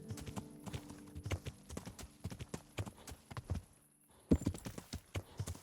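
Horse hooves clip-clop at a quick, uneven gallop in the medieval game Kingdom Come: Deliverance, with irregular sharp thuds and a brief stronger impact midway, fairly faint overall and mostly alone.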